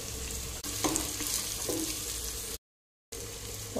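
Chopped ginger and green chilies frying in a pan for chicken curry, a steady close sizzle with a couple of stirring scrapes, cutting out briefly before the sizzling resumes.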